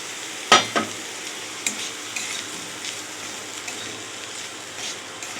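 Semolina roasted with boiled potato, green chilli and vegetables in a pan, a steady frying hiss with a sharp clang of the utensil followed by lighter intermittent stirring scrapes.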